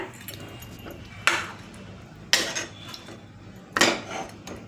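A pot of catfish curry with tamarind water being stirred: three sharp metal scrapes and clanks of a spoon against the pot, spaced about a second apart, close, with soft background noise.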